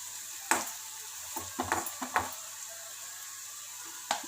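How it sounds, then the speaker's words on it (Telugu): Corn kernels frying on a slow flame for crispy corn: a quiet steady sizzle broken by a few sharp stirring clinks and scrapes, near and sparse. "మంచిగా ఫ్రై అవ్వాలి, అందుకే స్లో ఫ్లేమ్లో పెట్టాను."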